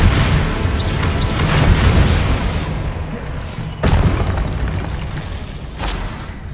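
A spell is cast in Hogwarts Legacy amid dense game audio, with magical bursts and a sharp booming hit near the middle and another impact toward the end, loud and layered over a steady background score.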